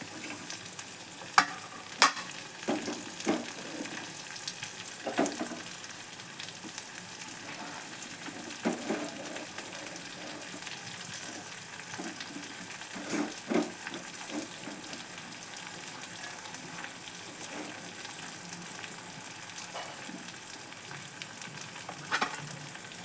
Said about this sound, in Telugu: ఇప్పుడు మనం కట్ చేసి పెట్టుకున్న క్యాప్సికమ్ ముక్కలు వేస్తున్నాను.